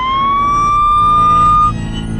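An ambulance siren wails loud and close in a steady rising tone, then cuts off abruptly near the end over low rumbling noise.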